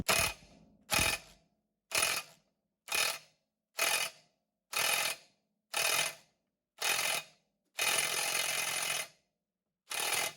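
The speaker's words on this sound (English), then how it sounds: "From here, I'm going to transition to the impact gun." An impact gun hammers on a seized bearing carrier retainer nut in ten rapid bursts, each a loud close rattling blast of about half a second, with one longer burst near the end.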